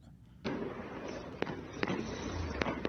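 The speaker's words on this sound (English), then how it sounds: "you can hear the firecrackers in this clip too" Firecrackers go off during a celebration in China, a dense continuous crackle punctuated by sharper individual pops, moderately loud and steady throughout.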